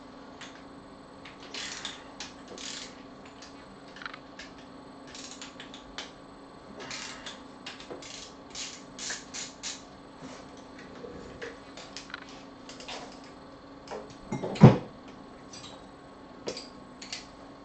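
Wrench clicking steadily while one-time-use stretch bolts are taken out of a race car engine, a run of light metallic ticks spread across the clip with a sharper clank near the end, no talking.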